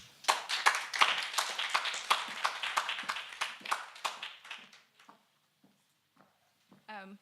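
An audience at an alumni evening event applauds with a run of crisp, distinct hand claps that thin out and fade into scattered final claps, followed by a brief voice at the end.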